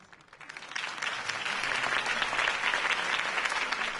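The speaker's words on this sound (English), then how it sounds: "If only Mr. Wayne, my campaign's largest backer, could have heard that applause" A crowd in the video game Batman: The Telltale Series bursts into applause that swells quickly and holds steady, many hands clapping loudly together.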